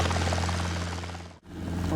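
Helicopter flying in the flight simulator X-Plane 12, a steady droning rotor and engine hum with a strong low tone, briefly dipping before resuming.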